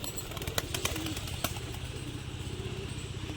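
A male pigeon coos in a low, rhythmic pulsing series held in a steel enclosure, close and steady, with a few sharp knocks and faint background noise.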